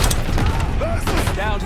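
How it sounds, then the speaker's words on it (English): Heavy gunfire rattles through a battle in Call of Duty: Black Ops 6 near a helicopter, with dense loud rapid bursts and booms under a voice speaking. "We're taking heavy fire at the helo."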